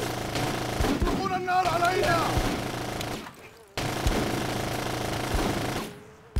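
Gunfire in the squad combat game Full Spectrum Warrior: Ten Hammer, rapid automatic bursts rattling in close succession with short pauses between volleys, loud, while voices call out over the shooting.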